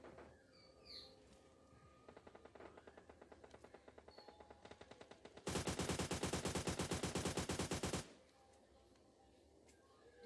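M249 machine gun fire in PUBG Lite: a run of quieter distant rapid bursts, then a loud close sustained burst of several seconds of fast, even shots before it stops.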